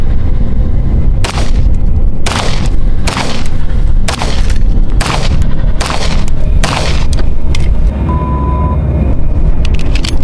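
A 1911 pistol fires a string of loud, sharp shots at steel plates and zombie targets outdoors, about eight reports with uneven spacing, and a faint timer beep near the end.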